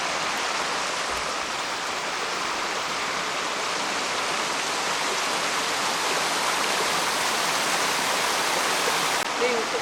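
Moving stream water in the Pacific Northwest gives a steady, dense rushing hiss that stays even and close for the whole stretch, with no pauses or distinct splashes.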